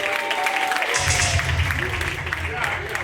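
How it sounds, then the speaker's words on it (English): Comedy-special audience applauds for Manda as she stands, a dense wash of clapping rising after the first second beneath a low bass throb, with the comedian talking over it. "Round of applause here, Manda."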